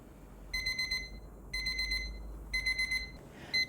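An electronic kitchen timer beeps in rapid bursts of four, repeating about once a second against a quiet background hum, while ramen cooks on a stove.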